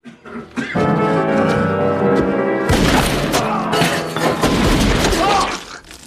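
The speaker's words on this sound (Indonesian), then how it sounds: "Humbert pun masuk secara diam-diam dan menembak si Claire" Gunshot in a dramatic film scene, a loud booming crack that bursts in partway through, with a crashing rumble after it and sustained tones and voices from the soundtrack around it.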